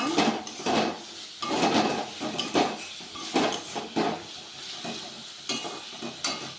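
Eggs frying with chilli powder and spices in a pan, with repeated rhythmic scrapes and clanks of a metal spatula over a continuous sizzle, close and fairly loud.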